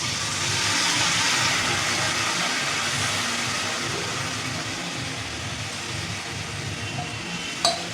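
Broken wheat and mixed vegetables sizzle and hiss in a hot pan on a gas flame, a steady loud frying rush that eases slightly toward the end, with a brief clink of stirring near the close.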